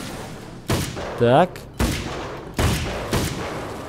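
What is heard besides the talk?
gunshots in Alan Wake's American Nightmare video game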